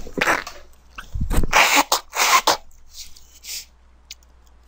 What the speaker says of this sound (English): I'm going to pause to sneeze here